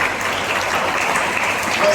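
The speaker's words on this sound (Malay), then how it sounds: "Bagi tepukan." Applause for teachers at a Teachers' Day celebration held over Google Meet, a dense steady patter of many hands clapping that sounds compressed, continuing evenly for the whole two seconds.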